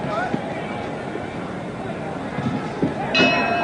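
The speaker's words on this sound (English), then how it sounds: "And the bell." A boxing round bell at the 1971 Ali versus Ellis fight gives one brief ring near the end, heard over a murmuring arena crowd and background commentary.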